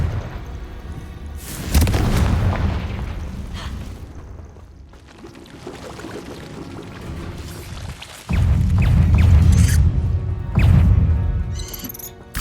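Confringo fire-spell explosions in Hogwarts Legacy: two loud, sudden booming blasts with crackling debris and rumbling tails, separated by quieter stretches of combat ambience.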